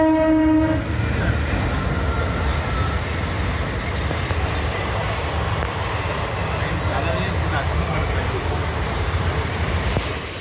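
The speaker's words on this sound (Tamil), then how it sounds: "ஏதோ ட்ரெயின் வரப்போகுதுங்க." A passenger train horn blasts briefly at the start, then a loud, steady rumble of rail cars rolling past continues throughout.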